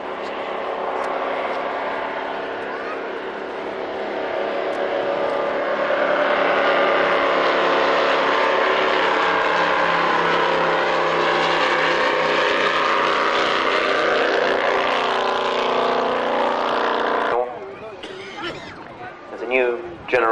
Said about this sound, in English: albeit with modern engines, nonetheless, it does put the distinctive shape in the air of the Vickers Vimy